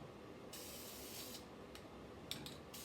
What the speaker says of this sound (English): And so we're going to spray with rose gold metallic first.